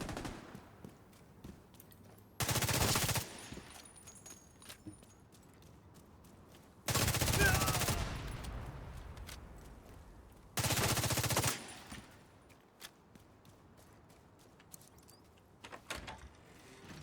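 Three loud bursts of rapid video-game gunfire, each about a second long, spaced several seconds apart over quiet background hum.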